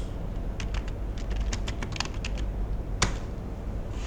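Quick, light keystrokes on a computer keyboard type a short search phrase into Google, in an irregular burst of clicks. A louder tap follows near the end over a steady background hum.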